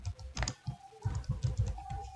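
Keys clack on a computer keyboard while alarm text is entered in HMI configuration software, close and crisp in quick irregular bursts with brief pauses, no speech.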